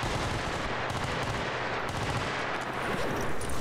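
Dense gunfire in the shooter game S.T.A.L.K.E.R. Anomaly, a continuous roar of overlapping shots and bursts at middling loudness, with no speech over it.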